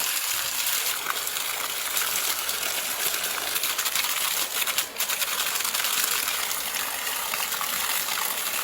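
Muddy water gushes hard and continuously from a hose, flushing out built-up dirt, a dense, hissing splashing that stays loud and steady throughout.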